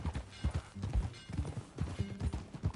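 Horse hooves clip-clop in Red Dead Redemption 2, a close run of uneven, rapid thuds at a walking-to-trotting pace with no break.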